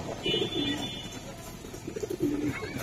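Giribaz pigeons coo nearby in soft, throaty rolling phrases, two bursts of cooing with a quieter pause between, while someone talks faintly in the background.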